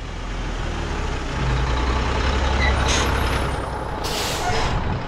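A dump truck rolls on a construction site with a low engine rumble, then two sharp hissing bursts of air brakes release close by.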